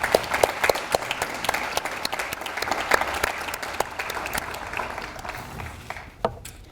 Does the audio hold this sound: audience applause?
yes